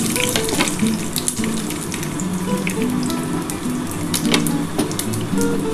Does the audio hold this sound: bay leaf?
yes